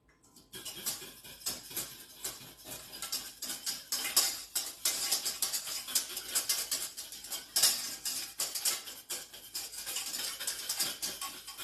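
A spoon stirring a chocolate coffee entremet mixture in a bowl: soft, continuous scraping and clinking against the sides, fairly close but quiet, in a steady back-and-forth rhythm with no talk.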